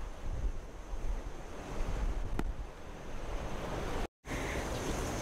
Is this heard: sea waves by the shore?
yes